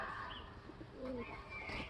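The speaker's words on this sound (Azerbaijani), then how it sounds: "Dən at göyərçinlərə." Pigeons coo in a Baku city square while being fed grain, soft throaty calls rising and falling over light outdoor background noise.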